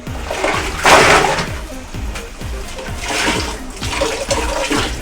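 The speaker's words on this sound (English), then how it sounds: "This is the shampooing part." A wig is shampooed in water, with repeated splashing and sloshing as the hair is worked and swirled, loud and close, rising in bursts of washing, with no voices.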